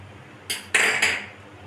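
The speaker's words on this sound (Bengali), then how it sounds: "প্রথমে দেখুন আমি বেসনটাকে ভালো করে ফেটিয়ে নেবো" Gram flour batter with salt and baking soda is whisked in a bowl, giving three quick close clinks and scrapes of the utensil against the side.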